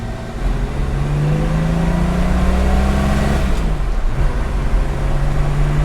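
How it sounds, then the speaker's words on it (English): A 1965 Ford Mustang's engine pulls hard under acceleration, a loud steady drone that rises in pitch, drops briefly at a gear change, then climbs again, heard from inside the car with no talk. "We'll see how she accelerates."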